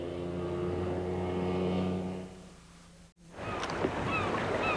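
A Mariner outboard motor hums steadily over open water, cuts out briefly, then wind and water noise return.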